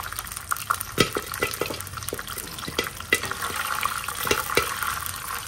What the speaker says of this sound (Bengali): এই পপকর্নগুলো যখন ফোটা শুরু করে না, এত ভালো লাগে এটা সাউন্ড।